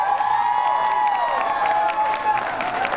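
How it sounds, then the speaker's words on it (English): An audience at a Hmong fashion show and dance gathering gives a round of applause mixed with cheering, a steady crowd wash that fills the whole stretch, with whistle-like tones and voices running over it. "give a round of applause for everybody?"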